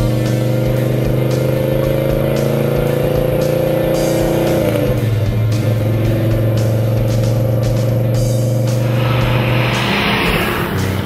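Car engine of a Rust-Oleum Project Muscle build, heard from the cabin during a test drive: a loud, steady low drone that shifts pitch midway as the car changes gear or speed, with no one talking.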